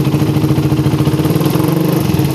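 Carburetted motorcycle engine with a filter at initial throttle opening, a loud close steady pulsing putter with rapid regular firing beats and a slight rise in pitch.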